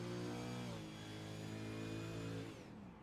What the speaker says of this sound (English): Putting the clutch in, downshifting, letting the car coast through the corners.